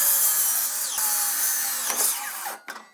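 A miter saw rips through salvaged wood from the dump with a loud, steady whining roar across the cut, its pitch shifting near the end before the blade spins down and trails off.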